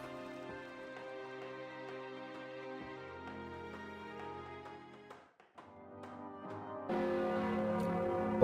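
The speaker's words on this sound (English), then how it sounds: "Bong. That's probably one of my church bells." A church bell in the video game The Guild rings out in sustained, overlapping tones for several seconds, dipping briefly before swelling louder near the end.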